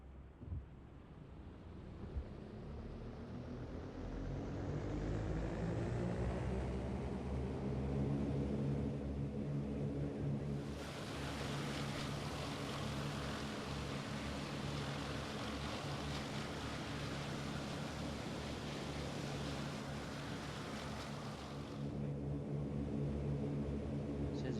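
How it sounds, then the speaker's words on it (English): A Focke-Wulf FW 200 Condor taking off in Microsoft Flight Simulator: the steady drone of its propeller engines swells into a loud, full roar, with rushing air noise growing during the takeoff run, and no talking. "I'll just quickly take off and demonstrate how the autopilot works."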